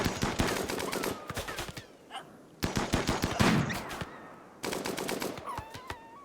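A light machine gun firing in a video game, three long rapid bursts of loud automatic fire separated by short pauses, the last shorter, with faint game effects between.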